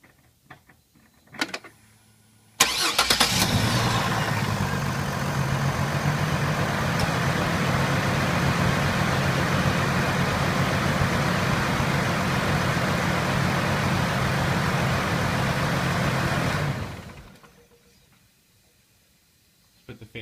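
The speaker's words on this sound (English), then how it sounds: "So you hear that nice misfire going on." A Chevrolet Trailblazer engine idles roughly with an ignition coil misfire, a steady loud rumble that starts abruptly after a couple of clicks and runs about fourteen seconds before dying away.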